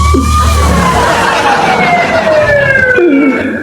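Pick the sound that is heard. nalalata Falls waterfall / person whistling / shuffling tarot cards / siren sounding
siren sounding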